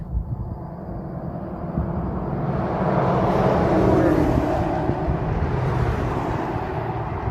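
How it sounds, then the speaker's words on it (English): Steady road traffic beside a river walk in Moab, Utah: a continuous broadband rumble of passing vehicles that swells slightly midway and holds loud and close, with no voices. "Sorry for all the road noise."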